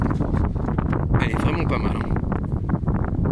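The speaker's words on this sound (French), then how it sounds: "Bon là il y a un peu le vent, désolé pour le vent" Wind gusts buffet the microphone outdoors at a flea market, a steady rumbling rush throughout while someone speaks briefly over it.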